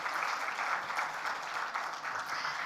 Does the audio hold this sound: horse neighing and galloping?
no